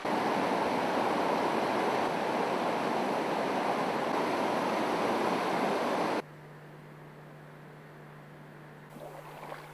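A river swollen by heavy rain roars in a dense, loud rush of churning water for several seconds, then cuts abruptly to a much quieter low hum with faint background sound.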